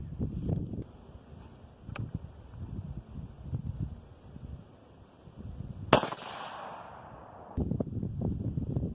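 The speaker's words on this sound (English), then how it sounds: "We're gonna shoot our last 5 rounds of Varget." A single sharp 22-250 rifle shot fired with a 31.0-grain Varget powder load rings out at an outdoor range, followed by a short decaying echo, with wind noise and faint handling rumble before and after.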